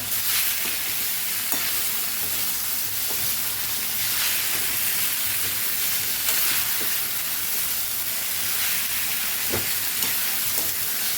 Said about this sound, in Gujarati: સરસ આપણે સાબુદાણાને મિક્સ કરી દેવાના છે